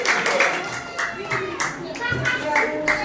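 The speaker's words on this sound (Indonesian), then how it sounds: "tepuk tangan untuk kelompok auditori" A school class claps for a student group, scattered rhythmic hand clapping with several distinct claps standing out, mixed with children's voices and an adult talking.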